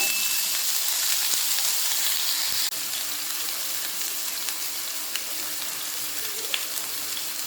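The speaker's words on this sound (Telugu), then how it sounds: "వేసుకొని పచ్చివాసన పోయే వరకు వేయించుకుందామండి" Chicken fry spices with ginger garlic paste sizzle steadily in hot oil in a pan, a loud continuous frying hiss with a few faint clinks, no talking.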